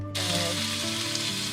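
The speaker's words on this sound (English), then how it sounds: "I'm going to cook it up in the frying pan" Speared fish sizzles steadily in a frying pan with salt, pepper, garlic and lemon, a close, continuous hissing crackle with a faint underlying hum.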